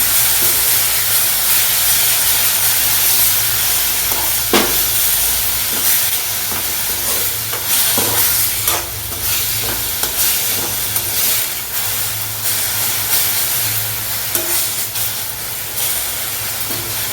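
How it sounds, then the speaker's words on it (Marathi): Fenugreek leaves (methi) sautéing in hot oil over high flame, a loud continuous sizzle and hiss with scattered scraping and stirring clicks throughout. "गरम तेलावरती अशी मेथीची भाजी तेलामध्ये अशी छान परतून घ्यायची एक दोन मिनटं"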